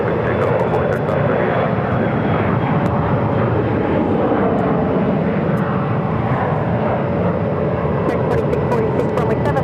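A fixed-wing airliner roars steadily and loudly as it takes off from runway 7 left at Phoenix Sky Harbor airport, with faint radio voices underneath the continuous engine noise.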